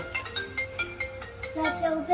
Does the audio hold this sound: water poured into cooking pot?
no